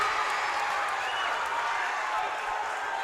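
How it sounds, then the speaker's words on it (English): Crowd at a men's tournament basketball game cheering and applauding in a steady, dense wash of claps and voices, loud and sustained throughout. "Crowd really loving this one."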